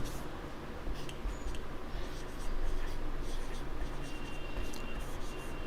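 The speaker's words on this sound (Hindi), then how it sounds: "यहां पर लिख देते हैं" Writing by hand during a Hindi grammar lesson, faint scratchy strokes in short irregular bursts against a quiet room hum.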